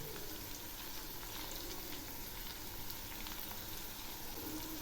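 Leafy greens (shaak) with ginger are stirred in a frying pan, a continuous soft sizzle with a faint hiss running evenly throughout, fairly quiet and without voices.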